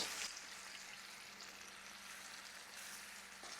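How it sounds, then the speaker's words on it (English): Boneless meat sears in a pan with garlic cloves, giving a steady, close frying sizzle that continues throughout with a few brief crackles. "Flip them over, sear them on all sides."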